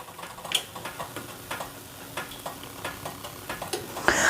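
Sourdough pancakes cook in a pan on a stovetop with a faint, soft sizzle and scattered light ticks and pops throughout, with no voices.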